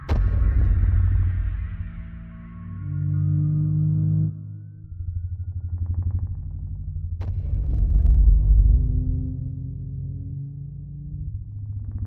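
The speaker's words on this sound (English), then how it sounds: "What you're hearing is a male Tyrannosaurus rex about half a kilometer away" Reconstructed call of a male Tyrannosaurus rex heard from about half a kilometer away: a deep, chest-rattling low rumble in long swelling pulses, with a brief sharper thud partway through, loud and sustained with no speech.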